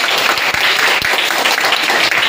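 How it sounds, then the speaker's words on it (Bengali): Children in a classroom clap together in a short burst of dense applause, loud and close, lasting a couple of seconds with no talking over it. "হাততালি দাও।"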